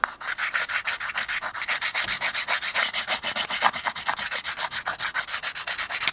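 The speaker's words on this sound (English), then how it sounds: "I'm just going to rub some of these over it," Chalk is rubbed back and forth over a detailed wooden dollhouse surface in quick, even strokes, a close, rhythmic scratchy rasping that repeats steadily with no talk.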